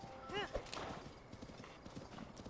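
Horse hooves clip-clopping in The Legend of Zelda: Breath of the Wild, a steady trotting rhythm with a short whinny near the start, over faint background game ambience.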